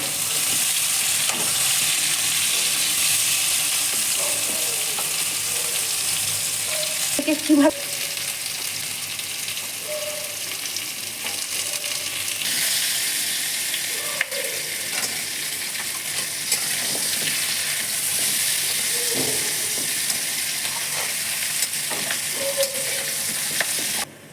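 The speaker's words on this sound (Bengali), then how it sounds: "এখন সুন্দর করে ভাজতে হবে" Pumpkin and potato chhokka frying in a pan, a steady broadband sizzle held throughout with occasional scrape-and-stir clinks of a spatula, close and fairly loud with no talking.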